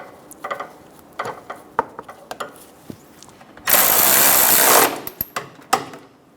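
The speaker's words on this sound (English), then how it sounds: "Go around and install all of the bolts." A power tool drives in engine bolts on a 1994-1997 Honda Accord 2.2L four-cylinder during a crankshaft damper replacement, a single loud burst of about a second amid scattered clicks and clanks of handling.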